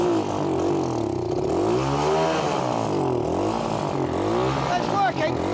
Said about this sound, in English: the great Millyard, assisted by Skidlington, has got our quad bike going.